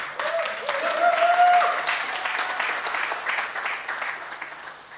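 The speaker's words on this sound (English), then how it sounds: "Big round of applause, Nepalese community." Applause from the Nepalese community audience at the grand opening of a Hindu temple and community centre in Oxford, a broad steady clapping that swells and then slowly fades, with a voice faintly audible beneath.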